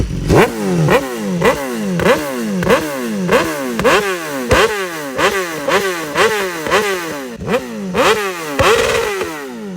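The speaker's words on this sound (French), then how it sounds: "Il va monter un peu dans les tours, je vous laisse écouter." A heavily tuned stage 4 BMW S1000RR superbike engine, around 230 hp, revs hard in repeated sharp bursts, each climbing and dropping in quick succession, loud and close with a raw, clattering edge and no talking.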